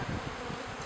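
Honeybees buzzing in a hive during installation of a new brood in New England, a close, steady droning hum with no talk.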